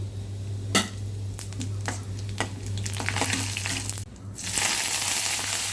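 Cumin seeds sizzle in hot oil in a kadai, with mustard seeds and urad dal already in the pan, giving a steady close crackle with a few sharper pops and a brief dip near the end.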